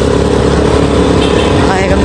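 A borrowed motorcycle engine running steadily, loud and close with a continuous rumble, mixed with talking throughout.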